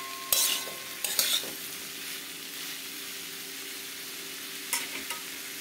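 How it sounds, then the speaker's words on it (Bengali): Ridge gourd fries in a pan over lowered heat, giving a soft, steady sizzle broken by a few brief scraping stirs and clinks near the start and end. "এবার আমি গ্যাসটা কমিয়ে দিয়ে আমি এটাকে ভাজবো। আমি ঝিঙেটা দিয়ে দিয়েছি।"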